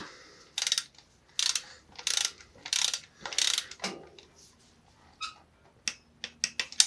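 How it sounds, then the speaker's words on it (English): A screw is tightened while motorcycle parts are fitted on a ZZR600 in a workshop, heard as five quick ratcheting bursts followed by scattered lighter clicks and taps. "Screw that in, tighten it up"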